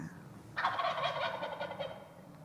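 A turkey gobbles once in a rapid rattling burst, clear and moderately close against a quiet background, with no talking.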